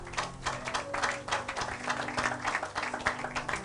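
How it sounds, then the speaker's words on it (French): Church congregation clapping together, a dense, fairly faint patter of many hands sustained evenly from start to finish in a reverberant room. "Acclamons pour la gloire de Dieu."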